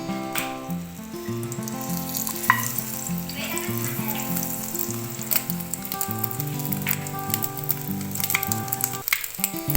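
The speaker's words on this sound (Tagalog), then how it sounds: "Pinitrito na natin ang ating eggplant siomay" Eggplant siomai frying in hot oil, a steady dense sizzle and crackle running throughout with tonal humming underneath, near and fairly loud.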